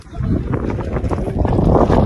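Loud, gusty mountain wind buffets the microphone in a continuous roaring rush, swelling slightly toward the end.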